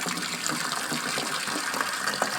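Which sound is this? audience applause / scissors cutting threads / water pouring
water pouring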